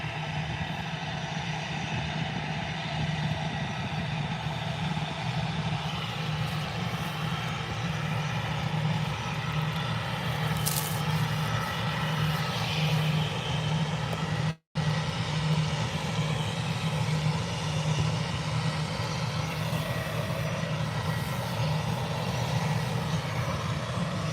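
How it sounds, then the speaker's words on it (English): An aircraft taxiing slowly at Birmingham airport gives a continuous distant jet engine hum with a steady low drone and hiss, unchanging for the whole stretch apart from one brief dropout. "Taking a very slow taxi on the way down."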